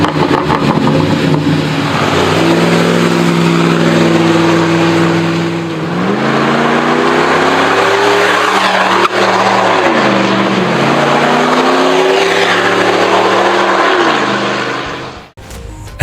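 A Ford F-150 with the 5.4 Triton engine and an aftermarket exhaust revs in several deep, loud swells, the note climbing and falling repeatedly with a steady rumble between throttle blips.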